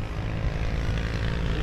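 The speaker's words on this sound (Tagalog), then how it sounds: "Ayan, drone na." Small camera drone lifting off and flying at a scenic hilltop spot in Batangas, its steady propeller buzz loud and close, continuous with no talk.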